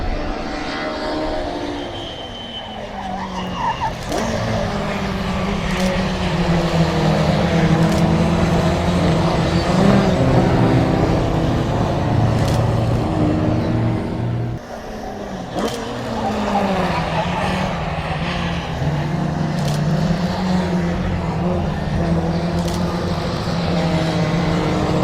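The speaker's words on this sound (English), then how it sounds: "Lovely old cars." Old cars racing at a motorsport event, loud engines droning and revving continuously as vehicles pass, with rising and falling pitch sweeps and short bursts, heard close and filling the scene.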